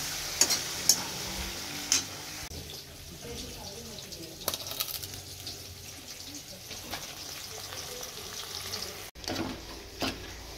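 Tomato chutney sizzles and frying in a pan while a spoon stirs it, with scraping clicks and a steady hiss, and faint background noise for about ten seconds.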